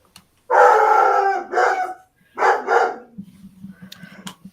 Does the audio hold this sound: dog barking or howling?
yes